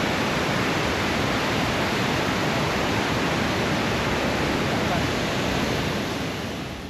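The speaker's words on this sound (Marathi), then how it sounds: "हा नॉर्मल धबधबा नाही मंडळी, कारण फोर्सफुली पाणी वाहत आहे" A forcefully flowing waterfall roars close by as a dense, unbroken rush of water, loud and steady throughout and easing only slightly at the very end.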